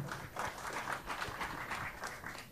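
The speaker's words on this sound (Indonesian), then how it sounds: "Tepuk tangan untuk 3 narasumber." An audience claps for three speakers at a football supporters' discussion forum, a dense, steady patter of many hands heard from a distance and fairly quiet throughout.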